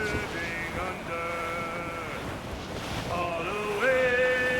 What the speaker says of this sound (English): Waves are surging under.